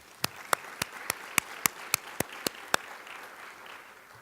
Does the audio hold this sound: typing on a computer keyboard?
no